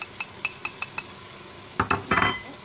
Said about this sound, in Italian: Mescoliamo per bene